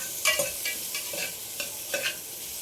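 Vegetables including beans are stir-fried for a wheat rava chutney, soft sizzling under a handful of spatula scrapes and clinks coming in quick, irregular bursts.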